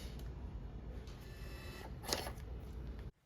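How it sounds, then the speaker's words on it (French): A label printer in a parts shop printing a work order label, giving a faint, steady mechanical whir with a brief louder burst near the end before cutting off. "L'employé utilise l'ordinateur pour faire imprimer l'étiquette du bon de travail qu'il vient de compléter."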